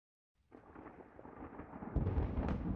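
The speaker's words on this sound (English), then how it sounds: "Got a thunderstorm now?" Thunderstorm in the video game Lisa: The Painful: a low rumble of thunder fades in from silence, then swells into a heavier, louder roll with rain-like noise in the last second.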